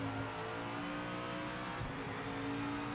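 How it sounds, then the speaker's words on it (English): A race car engine in the sim racing game Project Motor Racing drones and revs steadily, a dense continuous mechanical roar with a held tone and a faint tire squeal midway. "Car sounds as well, I think, are better in Evo."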